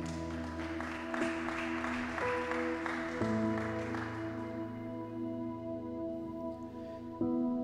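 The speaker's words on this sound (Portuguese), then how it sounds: "Você pode aplaudir ao Senhor por isso?" A church congregation applauds during a sermon. The sustained clapping is layered over steady sustained tones and slowly thins toward the end.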